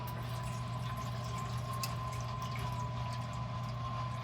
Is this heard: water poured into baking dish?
yes